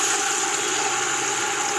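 A steady, continuous rush of water poured from a kettle into a pot of shellfish shells, loud and close, with an even hissing splash throughout.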